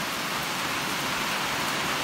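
Heavy rain pours steadily on a homestead where a bottle calf is kept, a dense, even hiss of falling water throughout with no voices.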